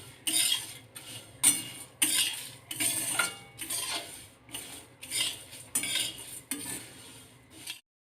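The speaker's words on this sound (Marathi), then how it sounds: "कढई गरम आहे तोपर्यंत याच्यामध्ये आणखी परतवून घेते" Metal utensil scraping and clinking against a hot pan while stirring roasting flax seeds, repeated strokes with steady rhythm and faint crackle, no voices.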